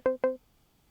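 A Rhodes-style electric piano patch on a Roland S-1 synthesizer plays two quick, identical plucked notes in succession, then falls silent.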